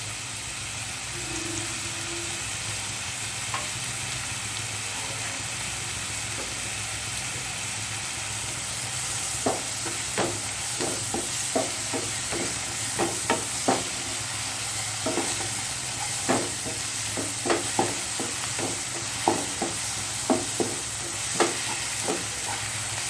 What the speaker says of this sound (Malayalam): നമുക്ക് അതിനകത്തോട്ട് ജിഞ്ചർ ഗാർലിക് പേസ്റ്റും പച്ചമുളകും ഇട്ട് കൊടുക്കാം